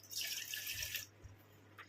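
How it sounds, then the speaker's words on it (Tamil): Water from a tap runs into a cooking pot for about one second, a fairly close, bright splashing pour that stops abruptly, followed by faint clinks in a quiet kitchen. "இதில் வந்து ஒரு டம்ளர் அளவுக்கு நம்ம தண்ணி சேர்த்துக்கலாம்"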